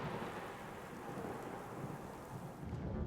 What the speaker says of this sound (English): Lightning and hail bring the noise to thunderstorms with booming thunder and pinging ice.